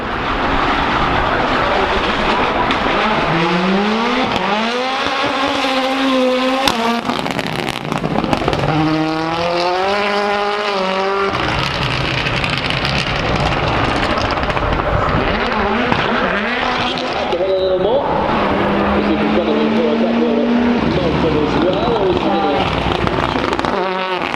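A Ford Escort rally car climbing the Goodwood Festival of Speed hill, its engine note rising and falling through repeated revs and gear changes, loud and near, with crowd and ambient noise around it.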